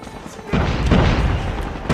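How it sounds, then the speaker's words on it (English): Grenade blast in a multiplayer shooter match: a loud booming burst lands about halfway through, trailed by rumbling debris, with a second hit near the end. "Grenade out! Frag out!"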